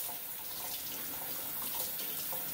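Steady running water from a tap pours and rinses over a Seydel Symphony harmonica with Kettlewell resonant covers, a continuous broadband splashing hiss with no talk.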